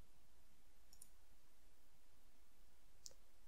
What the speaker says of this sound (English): Let's try that again, but we click faster.